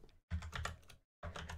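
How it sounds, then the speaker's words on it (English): Short bursts of key presses on a computer keyboard, close and fairly quiet, in two quick clusters separated by brief pauses. "So simply you put a star and then you type in the mod name."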